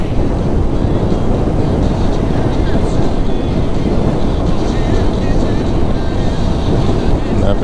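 A 2023 Yamaha Crosser motorcycle rides through heavy traffic on Marginal Pinheiros, a constant loud rumble of engine and wind buffeting on the microphone, with the rider talking over it.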